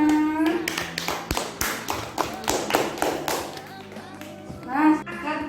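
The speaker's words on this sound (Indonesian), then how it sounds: "tepuk tangan buat fotonya" A primary school class claps hands together in a classroom lesson, a burst of sharp, overlapping claps and taps from many children, close and lively, with children's voices chattering around and over it.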